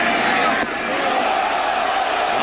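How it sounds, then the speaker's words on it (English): A steady, loud roar from a baseball stadium crowd at a Yankees vs Orioles game, a dense wash of voices reacting that continues without pause. "Knobloch leans away, and the crowd reacts."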